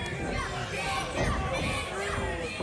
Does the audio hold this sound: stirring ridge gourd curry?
no